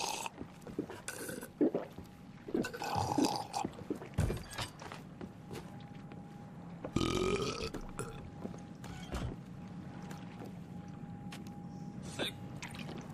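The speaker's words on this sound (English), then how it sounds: "Oh god, I'm burping." A person out in a boat lets out a few deep, gurgling burps, the loudest coming near the start and again midway, over faint water and creaking boat noises.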